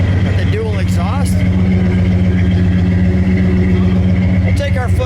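A 1986 Chevrolet Monte Carlo SS with dual exhaust idles steadily and loudly up close, a deep constant rumble running throughout while voices talk over it.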